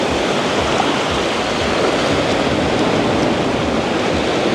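Ocean waves at a beach in Bali, heard as a dense, steady roar of surf and wash, loud and unbroken with no distinct individual breakers.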